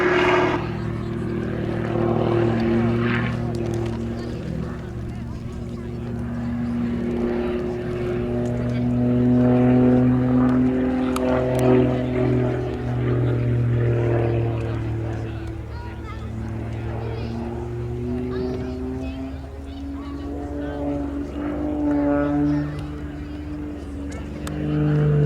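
An aerobatic aircraft's engine drones and shifts pitch as it pulls up into a barrel roll at the Duxford summer air show, sustained and fairly loud under an announcer's steady commentary.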